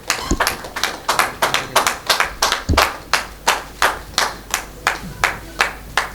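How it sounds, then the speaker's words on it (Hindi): At a Rajasthan art academy award ceremony, the audience claps for the painter and printmaker Shail Choyal. The clapping is loud, close and in a steady rhythmic beat of sharp, evenly spaced claps, with no talk over it. "तालियां बजती रहनी चाहिए हमारे ग्रेट आर्टिस्ट के लिए।"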